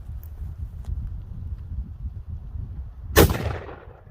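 A single loud, sharp Mosin Nagant rifle shot fired at a pumpkin, cracking out of a low outdoor rumble and trailing off in a brief echo.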